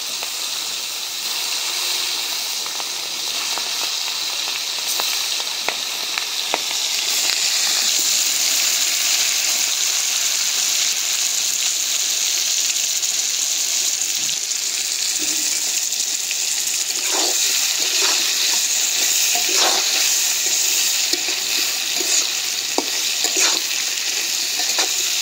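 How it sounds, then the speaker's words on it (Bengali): Prawns fry in oil in a pan on a clay stove, a steady loud sizzle and hiss with occasional scraping stirs, with no voices. "চিংড়ি মাছ ভাজা হয়ে গেছে"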